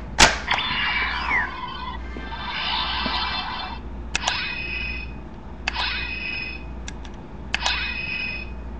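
Electronic sound effects from a Kamen Rider Draglazer toy, a series of bright synthesized bursts and chimes repeating at intervals of a second or two, close and clear with no talking.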